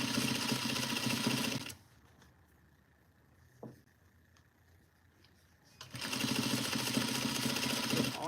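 A sewing machine sews a duster made from the Simplicity 8059 pattern, running loud and steady, stopping for a few quiet seconds with one small click, then whirring steadily again.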